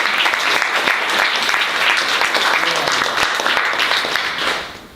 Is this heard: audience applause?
yes